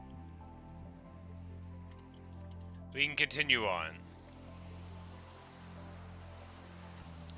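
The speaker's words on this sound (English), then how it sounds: "The beautiful sound of rain will be interrupted briefly, repeatedly, as we leave the savanna biome and enter it again" Rain falls in the Minecraft video game as a steady, soft patter and drip that continues throughout, with someone speaking briefly over it partway through.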